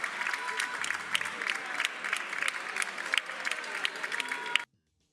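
Sustained applause fills a parliament chamber after a vote, dense and steady from many hands, then cuts off abruptly near the end.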